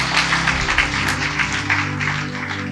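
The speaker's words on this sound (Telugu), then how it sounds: "గట్టిగా చప్పట్లు కూడా." A church congregation claps loudly together, a dense, continuous wash of applause holding steady throughout with no break.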